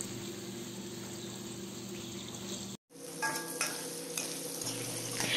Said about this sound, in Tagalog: Stir fry lang natin yan guys para hindi masunog ang patatas at carrots.